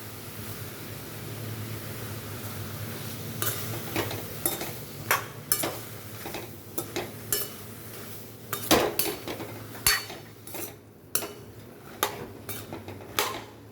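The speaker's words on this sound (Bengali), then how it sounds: "তো গরম কড়াইয়ের মধ্যে লাউগুলো দিয়ে নুন হলুদ দিয়ে" Bottle gourd pieces with salt and turmeric are stirred in a hot wok, a low steady hiss under repeated sharp scraping and clanking of a spatula against metal, irregular and close.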